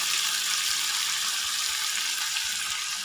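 Steady, loud sizzling fills a pan of Mourola fish curry as spice-paste water is poured into the frying oil, a dense hiss with faint low stirring knocks and no voices.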